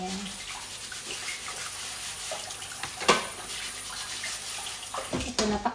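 Dishes being washed by hand under a running faucet after a family meal, a steady rush of tap water with occasional clinks and splashes, close by.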